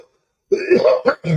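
After a moment of silence, a person close to the microphone coughs and clears their throat in a few harsh, rough bursts.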